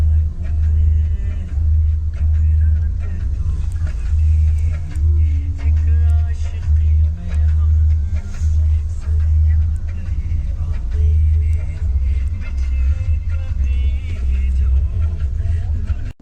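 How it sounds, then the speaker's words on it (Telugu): Dense road traffic on a highway near Haridwar in India, heard from inside a moving vehicle: a steady low rumble of engines and tyres with passing vehicles, continuous and fairly loud throughout. "ట్రాఫిక్ చాలా హెవీగా ఉంది చూడండి"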